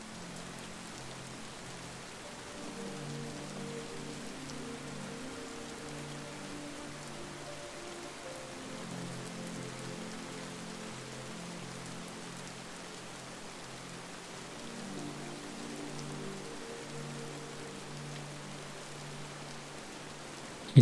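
Soft, steady summer-night rain falls on a surface, a gentle continuous hush of drops at low level with no talking.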